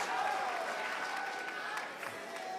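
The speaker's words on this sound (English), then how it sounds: "Give yourselves a round of applause." Audience applause at a King's College small house music event, steady dense clapping that fills the room at moderate level, with a faint sustained tone running underneath.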